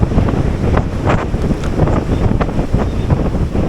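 Strong wind at the seaside, buffeting the microphone with a loud, continuous low rumble and gusty roar, with surf-like noise underneath and no voices.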